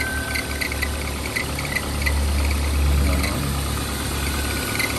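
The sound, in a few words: Toyota Accord engine idling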